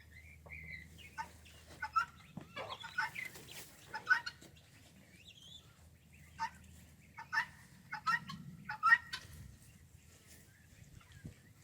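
Chickens cluck in a backyard poultry pen, with scattered bursts of clucking and gobble-like calls at moderate distance over a quiet low hum, and no speech.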